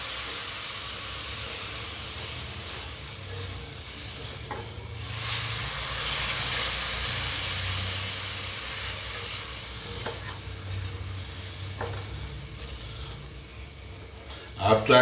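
Liquid poured a little at a time into roasting semolina halwa, a steady close sizzle and steamy hiss that swells midway, with stirring scrapes and occasional clinks throughout.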